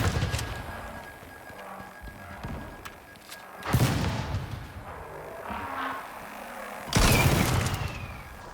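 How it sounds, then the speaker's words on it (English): Bombs exploding in the survival game ICARUS: two heavy booms several seconds apart over a rumbling, crackling background of distant blasts and thuds, fairly close and loud. "The bombs!"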